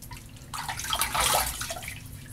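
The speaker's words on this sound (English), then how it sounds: "gonna throw a little bit of water on my face" Water is splashed onto a face before shaving, a short burst of close, bright splashing and dripping that swells and fades with no talk.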